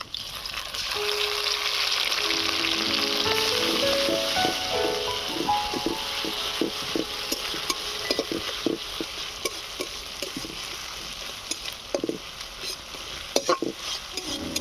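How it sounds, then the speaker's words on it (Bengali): A paste of onion, ginger, garlic and green chili fries in a pan with a strong, continuous sizzle, broken by repeated stirring scrapes and taps of the spoon that come close and fairly loud. "আদা, রসুন, পেঁয়াজটাকে লাল লাল করে ভেজে নেব।"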